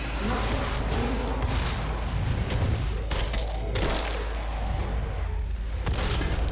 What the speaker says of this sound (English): explosions are fun for me